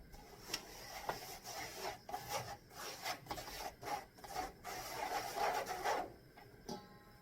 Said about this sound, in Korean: 체에 한번 내리겠습니다.